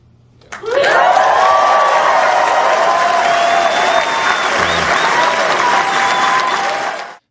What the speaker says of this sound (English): why don't I get applause like that when I send it?